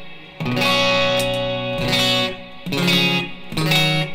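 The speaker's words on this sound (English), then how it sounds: "it's just kind of a short rising reverb that adds some body to your playing" A guitar pedal's short rising reverb setting, called small clouds, colours sustained guitar notes played in a few separate swells, each blooming and lingering briefly before the next.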